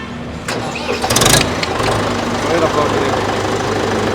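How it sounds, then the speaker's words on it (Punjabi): An Arjun 4-speed tractor cranks briefly on its electric self-starter, catches, and settles into a loud, steady nearby idle while a voice talks over it. "ਸਟਾਰਟਿੰਗ ਹੈ ਬੜੀ ਪਿਆਰੀ ਹੈ ਟਰੈਕਟਰ ਦੀ"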